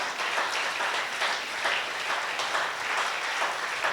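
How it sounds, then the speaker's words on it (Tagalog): Church congregation applauding during a sermon, a sustained, dense wash of many hands clapping in unison, fairly loud and even, with no voices over it. "Lahat na may kagalakan, pumalakpak nga sa Panginoon"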